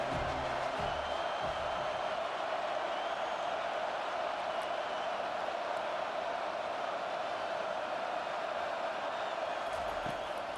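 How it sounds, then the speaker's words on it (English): Stadium crowd in EA Sports College Football 25 roars steadily on a third-down defensive stand, a dense continuous wall of cheering and noise with no breaks, fairly faint in the mix. "Decibels rising as the crowd gets behind this defense on 3rd down."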